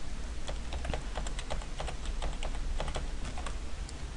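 Rapid clicking of keys on a computer keyboard as a username and password are typed into a login form, irregular bursts of keystrokes close up over a steady background hiss.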